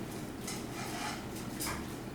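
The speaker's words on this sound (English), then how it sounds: "I will add 1 cup of canned mushrooms. Okay. And stir everything together." A spoon stirs a creamy sauce with canned mushrooms in a pan, giving soft, quiet scrapes and light clinks against the metal, with no one talking.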